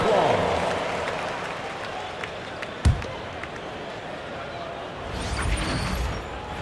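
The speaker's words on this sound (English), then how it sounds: "Give yourself a round of applause." Arena crowd at an NBA game between the Lakers and Boston applauding and cheering, a broad sustained roar of clapping that fades slightly, with a sharp thump near the middle and swelling again at the end.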